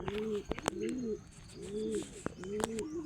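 Pigeons coo in soft repeated phrases close by outdoors, with a few sharp clicks and light background noise between the calls.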